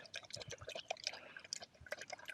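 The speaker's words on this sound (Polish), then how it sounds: "Nalejemy znowu wody, tak? Nalejemy wody." Water poured from a bottle for a thirsty husky dog during a rest stop on a run, a close, soft splashing and trickling with scattered drips, continuing steadily over low outdoor background noise.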